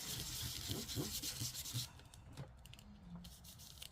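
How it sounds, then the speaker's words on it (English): An electric sander roughing up an ID card to a matte finish gives a steady close rubbing, sanding hiss for about two seconds, then quieter scraping and handling sounds. "I'm going to take my sander just to make it a little bit more matte."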